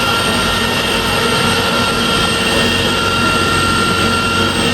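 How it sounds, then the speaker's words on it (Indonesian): An electric motor driving an industrial hydraulic trainer runs as a loud, constant whine with steady tonal hum and broadband mechanical noise, unchanging throughout. "Di sini saya akan menghidupkan motornya."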